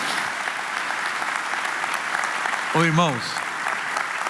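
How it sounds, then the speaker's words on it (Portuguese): A church congregation applauding during a televised evangelical service, a steady broadband wash of clapping throughout with a voice briefly calling out over it near the end. "E vamos aplaudir Jesus agora."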